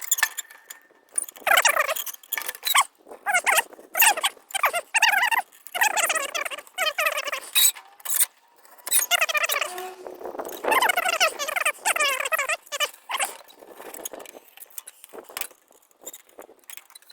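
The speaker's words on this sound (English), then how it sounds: "Just put tape flat down across the surfaces, and then pardon the squealing, and then push it into the seam with my fingernail or similar blunt object." Tape pressed flat across a 2012 Mercedes GLK X204 centre console squeals in short, high-pitched bursts as a fingernail pushes it into the seam, repeated squeaks and rubbing close up with brief pauses between strokes.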